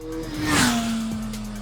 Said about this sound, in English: this is an unstressed Japanese inline-4 engine